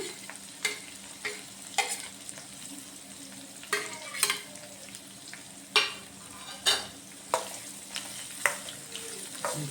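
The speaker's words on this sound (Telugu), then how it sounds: "కొంచెం కరివేపాకు వేస్తాను" Curry leaves and spinach (palak) sizzle in a hot pan while being stir-fried, with a steady frying hiss punctuated by repeated sharp scraping bursts of a spatula roughly every second.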